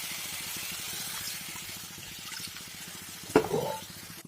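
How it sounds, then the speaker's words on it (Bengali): Water is poured into fish masala frying in a pan, a steady sizzle giving way to a sudden splashing gush and bubbling near the end, close and moderately loud. "এখন দিয়ে দেব কিছু জল"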